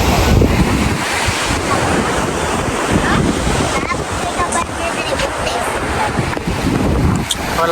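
Strong sea waves crash and wash on the shore while gusting wind buffets the microphone, a loud, continuous broadband roar with surges throughout; a voice speaks faintly over it.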